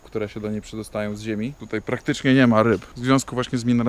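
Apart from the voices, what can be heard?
None of the usual background noises is heard.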